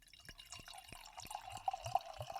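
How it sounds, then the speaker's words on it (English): Barrel-aged imperial stout poured into a glass, a quiet close trickle with a run of soft regular drips and gurgles building slightly toward the end. "Actually, let me pour it out."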